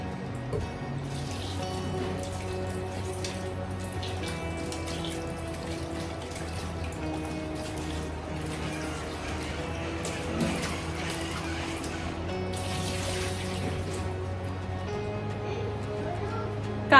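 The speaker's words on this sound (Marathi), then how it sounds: "आता मी भाज्या स्वच्छ धुवून घेते नळाखाली" Running kitchen tap water over cucumber, capsicum and tomato being washed at home, a steady flow with soft splashes and handling, under a background hum and light music.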